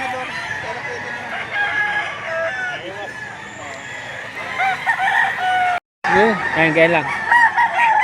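Roosters at a livestock auction in Lipa City, Batangas crow repeatedly and cluck loudly and close, with several birds overlapping while people talk nearby.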